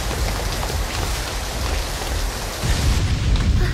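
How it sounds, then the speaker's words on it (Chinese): Heavy rain pours steadily as a dense, loud hiss with drips and splashes suggesting water coming through a leaking roof, continuous for a few seconds and growing slightly heavier near the end, with no voices. "这屋顶漏水，漏得也太厉害了"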